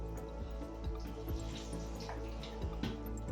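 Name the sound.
pouring Chinese wine into egg drop soup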